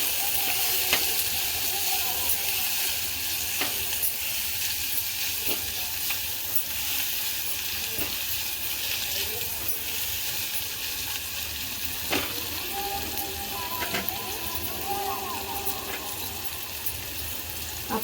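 Chopped onion frying in hot oil for a masoor dal amti, a steady close sizzle throughout with occasional scrapes and taps of a spoon stirring the pan.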